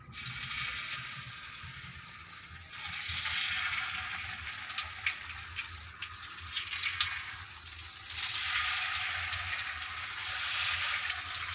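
Thin slices of purple eggplant fry in a generous amount of cooking oil, a steady dense sizzle and crackle running continuously and fairly close, swelling slightly louder toward the end.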